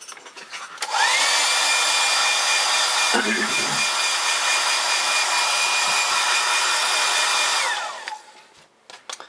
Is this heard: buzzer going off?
no